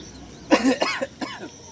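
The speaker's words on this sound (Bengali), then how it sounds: "বিরাট কাশি হচ্ছে" A short burst of two or three dry coughs, close and fairly loud, with no talking.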